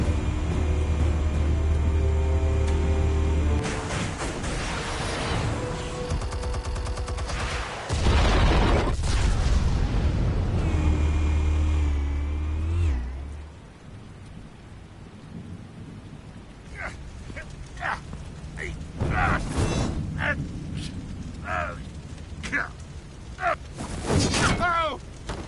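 Explosives detonating in Batman: The Telltale Series, heavy booming blasts with deep rumbling that swell loud, then fade into quieter scattered impacts and voices talking.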